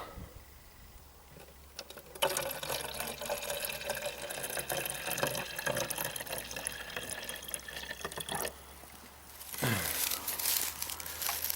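Birch sap is poured from a collecting container into a pint bottle outdoors, with a steady trickling and splashing stream and crinkling handling noises, then a brief pause and a final gush.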